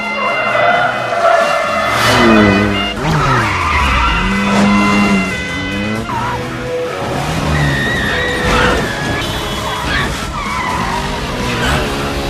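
A car chase from The Bourne Identity, with loud, drawn-out tire squeals and skids repeating over revving engine noise, close and intense throughout.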